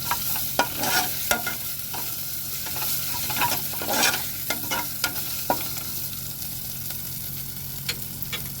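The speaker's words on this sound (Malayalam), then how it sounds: "ഇഞ്ചി വെളുത്തുള്ളി പേസ്റ്റ് ഇട്ട് കൊടുക്കുക നന്നായിട്ട് ഇളക്കി കൊടുക്കുക" Onions with ginger garlic paste fried in a pan and stirred steadily, a continuous sizzle broken by repeated scraping and tapping strokes of the spoon, close and fairly loud.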